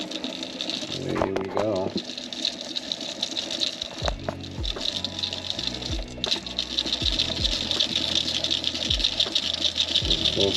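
Blood Run floating monofilament fishing line winding onto a reel spool, a steady mechanical whirring rattle with repeated soft clicks, close and continuous, with someone briefly speaking over it.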